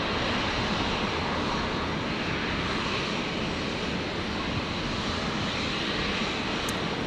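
A Jetstar Airbus A321neo jet arrives at Brisbane airport, landing from Melbourne, its engines giving a loud, steady broadband roar that holds evenly for the whole stretch, with no talk over it.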